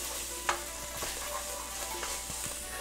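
Browned meat sizzles in a hot pan at close range, a steady frying hiss broken by a few sharp stirring scrapes and taps, with no voices.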